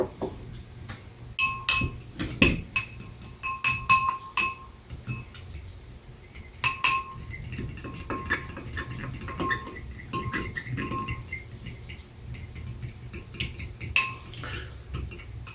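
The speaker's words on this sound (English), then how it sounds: "Just gotta stir it up now." Metal utensil stirring a spice powder mixture in a bowl for a spicy grilled cheese sandwich, giving repeated clinks and scrapes in irregular bursts, close and clear with no talking.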